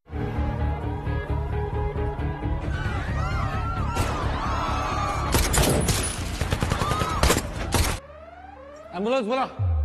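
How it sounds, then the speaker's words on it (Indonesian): Gunfire in a tense shootout between police and robbers, rapid volleys of shots crackling over voices and shouting, loud and close before cutting to a quieter moment. "kepolisian dan perampok sedang melakukan baku tembak yang sangat menegangkan"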